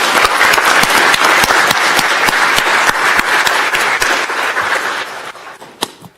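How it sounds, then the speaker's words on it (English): Audience at a county board of commissioners meeting applauds with steady, dense clapping for about five seconds, a few sharp individual claps standing out, before it fades and a final lone clap sounds. "Let's give them a round of applause, please."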